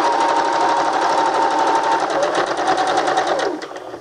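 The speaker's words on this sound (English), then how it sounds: "So go ahead and stitch, back stitch, and we're using a straight stitch." A sewing machine runs a straight stitch along a fabric seam, its rapid needle hum loud and continuous for about three and a half seconds before slowing and winding down.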